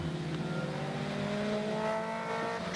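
Racing cars, a BMW 1 Series and a VW Polo, run on the Silverstone International circuit in the rain, engines droning loudly with rising revs as they pass close by.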